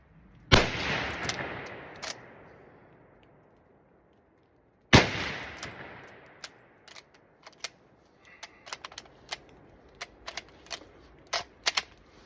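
A malfunctioning SMLE Lee-Enfield rifle fires two sharp, loud shots several seconds apart, each followed by decaying ring, then a scatter of quieter metallic clicks and clacks from the bolt cycling.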